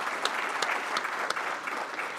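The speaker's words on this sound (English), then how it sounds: "But we can give him a round of applause." At a scouting council awards event, the audience gives a round of applause for an award recipient, a moderate, steady patter of clapping from a modest crowd with a few sharper claps standing out.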